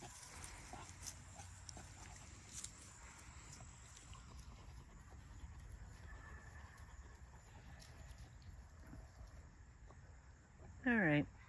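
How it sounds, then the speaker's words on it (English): A Great Dane puppy whimpers near the end in a short, high, wavering burst, close and fairly loud, over a quiet indoor background of rustling and a person talking softly. "Just wanted to let you see Ellie, our Great Dane"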